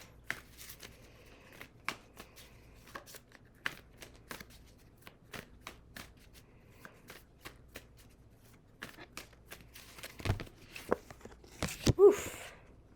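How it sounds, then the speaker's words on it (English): Tarot cards being shuffled close up, soft riffling and sharp snapping taps scattered throughout, with a burst of louder shuffling near the end. "So let me get these all shuffled up"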